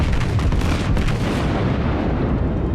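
Heavy battleship guns of the New York boom in World of Warships, a dense, loud rumbling roar of main-battery fire that swells through the first second and a half, then settles into a lower sustained rumble.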